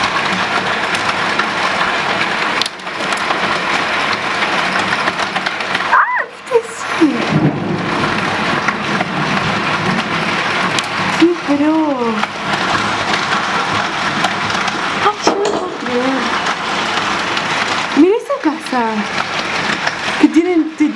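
Hailstones fall steadily on a roof in an afternoon hailstorm, a dense continuous patter and rattle close by, while a person speaks intermittently over it.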